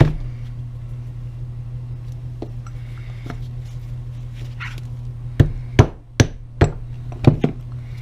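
Plastic and rawhide combination hammer striking in a workshop by a sine vice, about six sharp, close knocks in an irregular run over a steady low hum.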